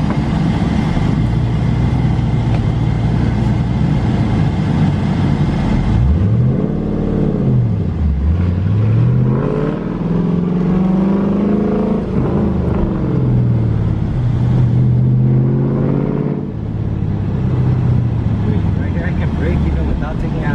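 A manual-transmission car pulling away and accelerating in second gear, its engine droning and rising and falling in pitch under steady conversation from people inside the cabin.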